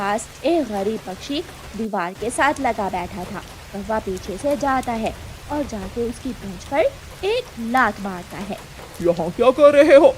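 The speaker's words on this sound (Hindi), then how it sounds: "ये बारिश भी ना जाने कब रुकेगी" Cartoon rain falls as a steady, soft hiss beneath continuous storytelling narration, in which a voice acts out the characters.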